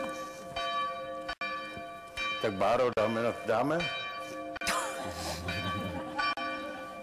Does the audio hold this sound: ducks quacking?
no